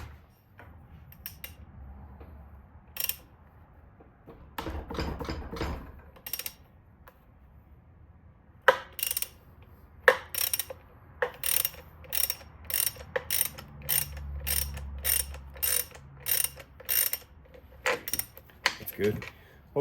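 A wrench works loose a 9/16 chain adjuster bolt on a Harley-Davidson Twin Cam primary, giving a run of sharp, evenly spaced ratcheting clicks up close, with a few scattered clanks and low handling noise before it.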